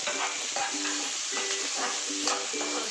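Onion, curry leaves and ginger frying in a pan with a steady, close sizzle, broken by several rhythmic stirring scrapes as the mixture is tossed.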